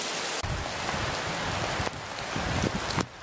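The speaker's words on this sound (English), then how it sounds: "Walking in the rain. What a pleasure, I love it." Heavy rain pours outdoors in Panama, a dense, steady hiss of drops close by, with brief sharp dips and changes in level as the patter shifts, and no talk.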